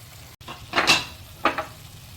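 Egg gravy masala cooking in oil, with two short close bursts of sizzling and stirring swishes over a low background hiss.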